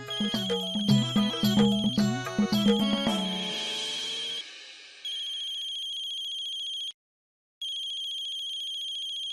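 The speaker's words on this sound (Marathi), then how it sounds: "मधुरा मावशींचा फोन" A phone ringtone plays a busy melodic tune, then settles into a steady high electronic ring that cuts out briefly and resumes, loud and close.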